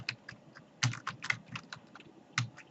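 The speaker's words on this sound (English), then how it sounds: "I type in handbags" Keys clatter on a computer keyboard as a word is typed into a search box: quick, uneven bursts of close, crisp clicks with short pauses between them.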